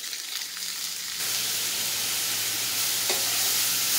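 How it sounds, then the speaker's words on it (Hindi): Long beans fry with cumin in a pan, giving a continuous loud sizzle that swells after the first second and holds steady, with a faint stirring scrape partway through. "और इसको थोड़ा हम 5-10 मिनट के लिए थोड़ा सा फ्राई करेंगे"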